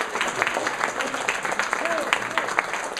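Audience applause at the closing of a 2013 art salon in Saint-Martin, a moderate, steady patter of clapping from a crowd with a voice talking over it throughout.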